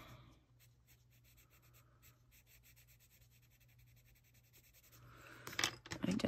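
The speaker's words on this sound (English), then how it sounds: "I need to just lightly erase that too." A pencil drawing on paper is lightly erased, giving a faint, steady rubbing of quick soft strokes that runs for several seconds before a louder rustle of paper and handling at the end.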